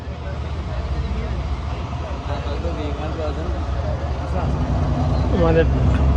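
River ferry's engine running as it gets under way for a crossing carrying buses and trucks, a loud low diesel rumble that builds steadily, with people talking over it.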